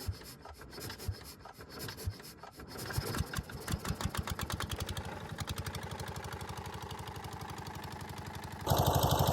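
Small boat engine sputtering then settling into a rapid, steady putt-putt rhythm close by, growing louder as it runs, with a sudden rush of broadband noise at the end.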